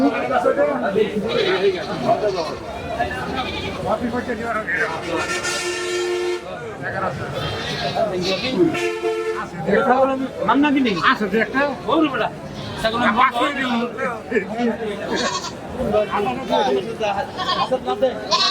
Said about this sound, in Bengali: আমরা পাশে আরো অনেক ছাগল দেখতে পাচ্ছি